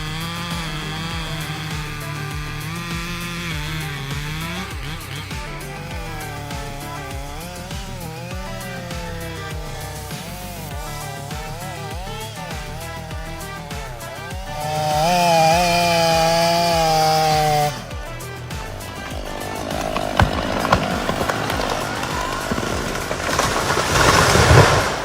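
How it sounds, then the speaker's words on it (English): Chainsaw cutting tree wood into firewood for winter, a continuous loud engine whine that shifts pitch as the load changes, with a louder, harsher burst of cutting midway and rough, noisy sawing toward the end. "With a rotation speed of about 2400 revolutions per minute, the chainsaw's cuts become very sharp."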